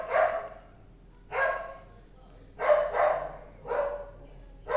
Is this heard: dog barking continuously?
yes